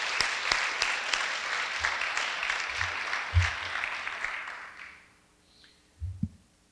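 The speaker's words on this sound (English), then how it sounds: "Let's give them all a round of applause." An audience at an awards ceremony applauds volunteers who tend the gardens and house, a dense, fairly distant round of clapping that fades out after about five seconds, followed by a couple of low thumps.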